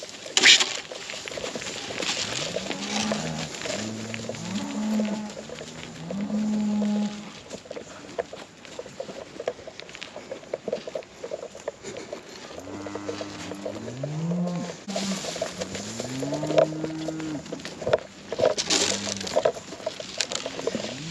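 A cow moos repeatedly out in a pasture, with drawn-out, wavering calls in two clusters and a quieter stretch between, over a steady outdoor background of rustling and faint birds.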